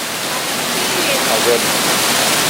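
Victoria Falls in Dominica, reached on a hike, gives a dense, even, hissing roar of falling water, loud and steady throughout, while a voice speaks briefly over it.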